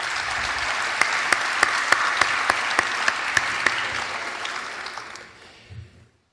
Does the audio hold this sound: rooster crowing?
no